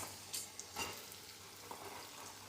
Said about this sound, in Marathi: कांदा, टमाटर, लसूण हे सगळे टाकलेले बघा. आता फ्राय करताय.